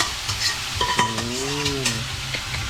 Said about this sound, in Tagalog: Tapos saka na siya igigisa ulit ng panibagong gisa.